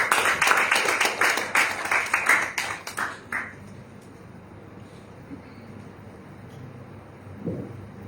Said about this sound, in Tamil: கைத்தட்டி நம்ம வரவேற்கலாம்.